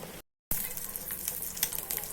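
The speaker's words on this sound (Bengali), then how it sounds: "এখানে সবজি দিয়ে আলু দিয়ে ভাজি করছি" Vegetables and potatoes fry in a home kitchen pan, giving a soft, steady sizzling hiss with scattered faint crackles and pops. The sound cuts out for a moment near the start.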